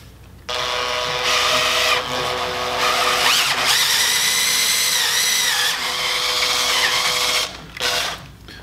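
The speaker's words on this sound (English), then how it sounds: "Just using this shaft to kind of hone out this bushing just a little bit to get these collars in." A metal shaft is worked inside a bushing to hone it out on a weld positioner assembly, giving a loud continuous grinding, whirring tool sound that starts abruptly and runs several seconds, pausing briefly near the end.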